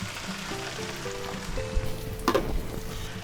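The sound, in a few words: beaten egg mixture frying in a pan with peppers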